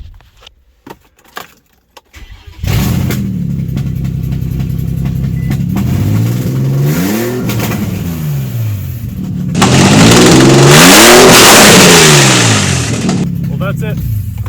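An Infiniti G35 with a VQ35 V6 idles after a few faint clicks, then revs loudly in two long bursts that swell and fall, the second louder and sustained, all close up.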